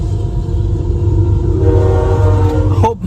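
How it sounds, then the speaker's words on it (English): A loud Canadian Pacific freight train rumbles past close by with the steady clatter of rail cars, and a horn blasts near the end. "here comes on the train"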